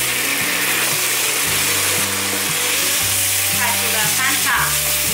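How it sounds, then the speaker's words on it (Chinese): King oyster mushrooms are stir-fried in a sauce of vegetarian oyster sauce and ketchup, giving a loud, constant sizzle over a droning, stepped hum of background machinery. "放入杏鲍菇。"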